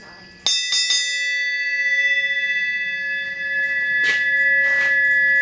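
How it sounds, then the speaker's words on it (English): An old shop bell is struck a few times in quick succession, its bright metallic ring sustaining and humming loudly, with a couple of further hits or knocks later while the tone lingers. "Pretty neat old bell."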